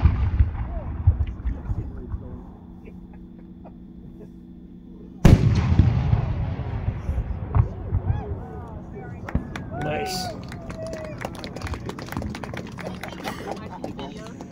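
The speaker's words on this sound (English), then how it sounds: "a single break, 8-inch, chrysanthemum ball shell of blonde streamer stars, changing to blue, changing to shimmer" An 8-inch chrysanthemum ball shell, a single break of blonde streamer stars changing to blue then shimmer with an emerald green pistil and rising tail, bursts with one sudden loud boom after a low rumble, then trails off into crackling and distant echoes.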